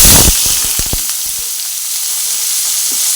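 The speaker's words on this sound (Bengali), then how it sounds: "তেলটা গরম হয়ে গেছে এর মধ্যে গোটা চিড়ে দিয়ে দেবো গোটা চিড়ে তারপরে কুচানো পেঁয়াজগুলো দিয়ে দেবো" Shrimp and chopped onions dropped into hot oil for a taro stolon curry burst into loud, close, steady sizzling frying, with a few clacks at the start and no voices.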